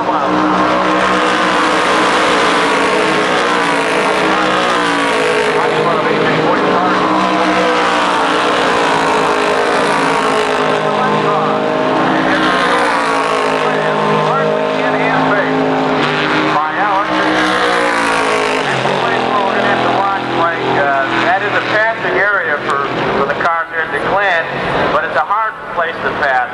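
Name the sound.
IROC race cars at speed, Watkins Glen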